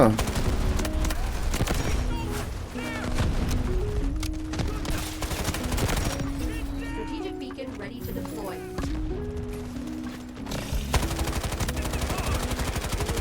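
Gunfire from the Delta Force video game, with a QCQ171 weapon, fires as rapid, continuous automatic bursts for several seconds, loud and close over a steady tonal background.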